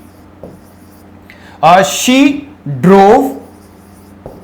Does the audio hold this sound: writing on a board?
yes